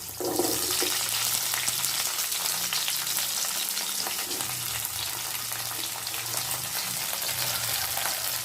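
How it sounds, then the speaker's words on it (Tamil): Garlic, shallots and curry leaves sautéing in hot oil for a spicy bitter gourd thokku, giving a loud, dense, continuous hiss of frying that stays steady throughout, close up with no voices. "சேர்த்து நல்லா வதக்கி விட்டுக்கலாங்க"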